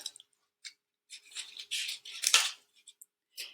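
Scissors snip through paper to cut out small numbered cards, a series of close, crisp cuts and rustles in short irregular bursts with quiet gaps, no speech.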